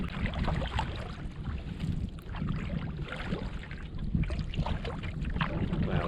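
A paddle dips and strokes through still water as a Hornbeck canoe glides through an old forest, giving soft repeated splashes and swishes over a steady outdoor wind hiss.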